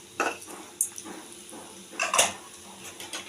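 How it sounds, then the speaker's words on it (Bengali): Lentil dumplings (bori) go into hot oil tempered with five-spice. Quiet sputtering sits under several sharp metallic clinks of a utensil against the pan, with a few louder clatters spaced irregularly. "তেলের মধ্যে 5 ফোড়ন দিয়ে বড়ি দিয়ে দিলাম"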